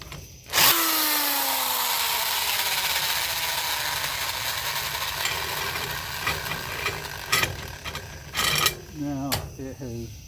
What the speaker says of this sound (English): Hopefully the drill lasts.